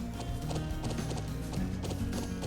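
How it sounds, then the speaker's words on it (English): Horse hooves clip-clopping in the video game Trails of Cold Steel, a steady rhythmic trot of hoofbeats over a layer of game music, close and clear. "Did I just hear a horse?"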